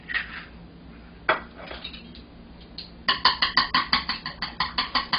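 Eggs being cracked and beaten in a bowl for rolled omelette in a Japanese-style kimbap recipe, a few clinks and taps at first, then a quick, regular series of whisk strikes against the bowl, close and crisp.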